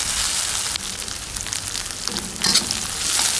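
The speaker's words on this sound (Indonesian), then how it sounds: "Dan ini sengaja ditumis belakangan karena gampang masaknya ya teman-teman, bumbu halus." Loud, continuous sizzling and frying of ground spice paste in a pan for nasi goreng, with brief scraping bursts as the mixture is stirred.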